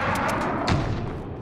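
Heavy booming impacts and a sharp blast from a friendly white phosphorus strike in a Modern Warfare Ground War match on Krovnik Farmland, rumbling amid distant battle noise.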